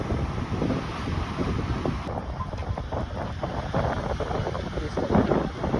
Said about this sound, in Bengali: আর এই কিন্তু ঢেউ।